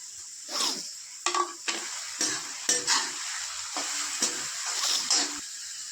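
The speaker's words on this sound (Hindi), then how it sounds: "अब ये डाल दिया है मिर्ची, लहसुन, अदरक का पेस्ट जो काट के हमने रखे थे। डाल दिए प्याज" Onions with chili, garlic and ginger paste fry in a pan, a steady sizzle punctuated by repeated sharp stirring scrapes roughly every half second, close and moderately loud.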